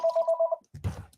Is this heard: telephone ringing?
yes